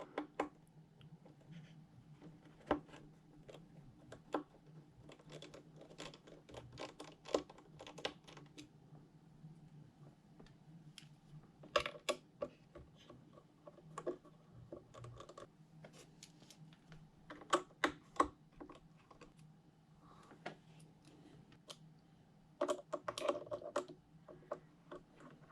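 Small screws being removed from an Nvidia RTX 2080 Ti graphics card during a teardown, heard as faint, scattered metallic clicks and ticks with occasional clusters against a quiet background.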